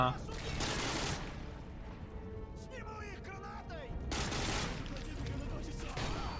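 Gunfire in Call of Duty: Modern Warfare 2 comes as dense, rapid bursts of shots at moderate loudness, rising and falling in waves, with someone talking over the action.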